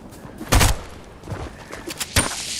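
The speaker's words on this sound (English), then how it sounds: "Somebody's shooting." Gunfire in a video game: two sharp broadband shots a second and a half apart, the first louder and fuller, with faint scattered pops and quiet background in between.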